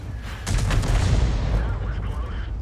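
A tank gun fires in World of Tanks: one heavy boom with a rolling crackle and rumble that decays over about two seconds, loud and close.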